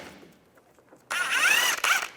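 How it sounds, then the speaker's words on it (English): Ratchet with an 18mm socket backing out bolts on a 2004-2010 BMW X3 rear trailing arm: faint handling at first, then a loud close rasping run of ratchet clicks with a brief pause before resuming. "Take these 3 bolts out."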